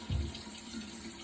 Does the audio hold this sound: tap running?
yes